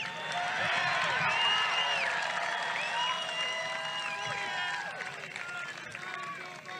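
A large crowd at a political rally for the 45th president cheers and applauds in a sustained roar of clapping and voices, loud and near at first and then easing slightly, with whistles and shouts poking through.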